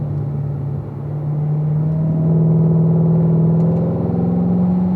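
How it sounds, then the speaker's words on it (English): A car accelerating out of a corner on a race track, its engine note climbing steadily and loud and close as the throttle opens, with a continuous rumble and no talk. "Now squeeze that throttle, Sonny."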